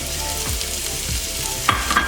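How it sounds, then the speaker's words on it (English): Minced vegetables sizzle in a warm pan for a pork belly banh mi, with soft frying crackle, a few stirring scrapes and light clinks near the end. "you're going to just want to give these a quick saute"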